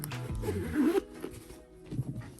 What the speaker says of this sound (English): we'll just unzip this